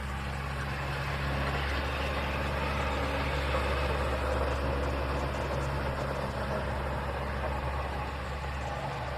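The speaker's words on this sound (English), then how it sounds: "tractor's so loud" A tractor engine runs at a steady low drone throughout, a continuous heavy rumble heard from a moderate distance at a drag racing night at Houston Raceway Park.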